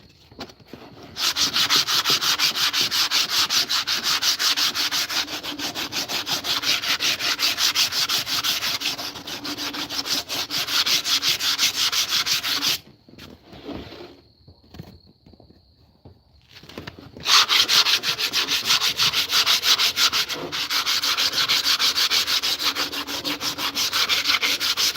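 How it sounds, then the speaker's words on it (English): Wood being sanded by hand with 80 grit sandpaper gives a loud, close, continuous rhythmic rasping of quick back-and-forth strokes, pausing briefly for a few seconds before resuming just as steadily. "a few minutes of sanding with that 80 grit"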